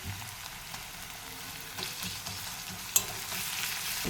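Chopped onion and ginger paste frying in oil in a pan, giving a steady close sizzle with soft stirring scrapes and one small clink, no talking.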